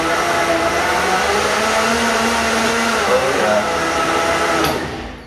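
An expensive Vitamix-style blender full of water roars at top speed, a loud, dense motor whine with churning liquid that holds steady, then tapers off near the end.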